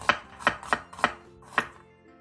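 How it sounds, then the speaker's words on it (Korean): An onion cut into thin strips with a knife on a board, five crisp chops in an uneven rhythm, close and alone. "양파 1개를 채 썰어주세요."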